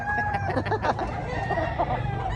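Chickens and roosters at a poultry expo in Tabunok, Talisay, Cebu, with overlapping clucks and a crow among the crowd bustle, close and steady throughout.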